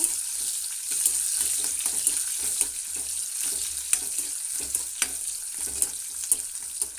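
Curry leaves and onion sizzling as they are sautéed in a pan, a steady bright crackling hiss with scattered pops and a few stirring clinks.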